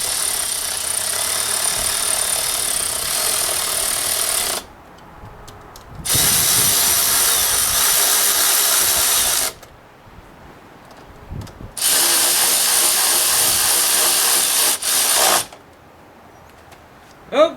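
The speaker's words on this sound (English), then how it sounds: "we're going to put these screws back in here" Power tool driving screws back into a drive-by-wire throttle body, three loud close whirring bursts of several seconds each separated by short quiet pauses.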